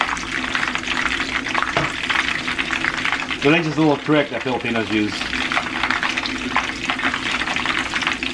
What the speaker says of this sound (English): when it starts bubbling, the oil's ready.